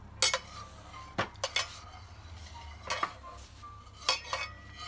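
Metal utensils clink and scrape against a bowl while beef marinade is being mixed, a few sharp irregular knocks spaced across a quiet kitchen background.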